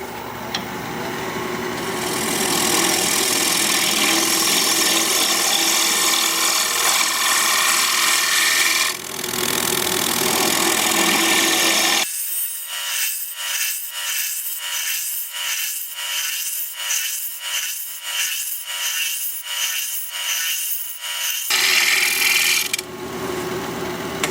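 Wood spins on a lathe turning at about 1200 RPM while a tool scrapes and hollows it out: a loud, close, steady rasp that stops, restarts, then breaks into rapid repeated cutting bursts, with no talking.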